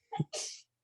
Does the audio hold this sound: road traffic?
no